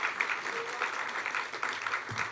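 Applause from an audience at a Cal Poly College of Science & Mathematics awards ceremony, a steady dense patter of clapping lasting throughout, moderately loud and without a clear break.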